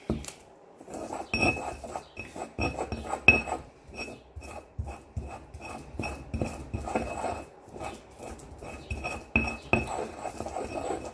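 Garlic being ground with salt in a stone molcajete, a close, irregular run of scraping knocks and gritty clicks, with no one talking.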